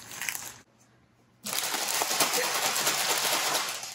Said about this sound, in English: You can mix as vigorously as you want as long as the ice is surrounding the ice cream bag fully.